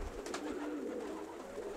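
A racing pigeon hen coos softly in a loft, low murmuring calls running steadily through the short stretch at a quiet level.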